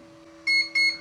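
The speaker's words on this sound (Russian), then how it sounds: "Сейчас инкубатор пищит, потому что температура недостаточная от установленной." An egg incubator gives three short high-pitched beeps in a steady rhythm over a faint constant hum, warning of low temperature.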